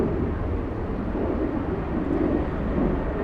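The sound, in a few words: Frontier airliner, flight from Orlando, at LAX airport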